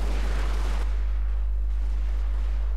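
Massed gunfire crackles from a battle in the video game Total War Shogun II, starting with a loud volley that then fades into a quieter rumble over a low, steady hum.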